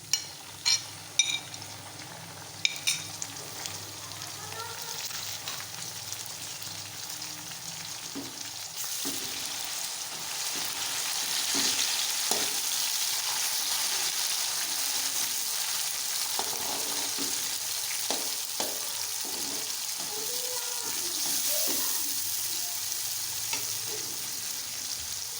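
Tomatoes going into a pan of browned onions, frying with a steady sizzle that swells midway and holds, broken by occasional stirring scrapes and clinks; no talking.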